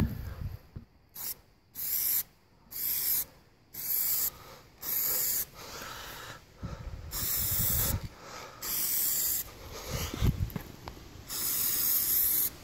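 An aerosol spray can lays light coats of Plasti Dip onto the hardtop of an NA Mazda MX-5 Miata in a string of loud, close hissing bursts, each about a second long. Short pauses separate them, and the last few sprays run longer.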